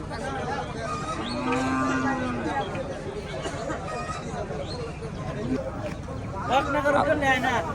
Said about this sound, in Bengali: এপাশে গরু নিয়ে চলে আসছে সব ব্যাপারীরা, কৃষকেরা